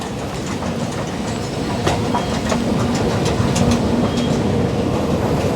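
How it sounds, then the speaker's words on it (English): A driverless Sydney Metro train at the newly developed Central Station rumbles steadily with rolling wheel noise and faint clicks, loud and continuous without a break. "Robot train. This is an all-stop service to Tallawong."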